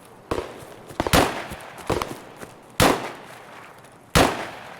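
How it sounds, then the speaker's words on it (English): Gunfire in the Escape from Tarkov video game cracks out in sharp, loud, separate shots at irregular intervals, some clustered close together, with no talking. "Shots up ahead."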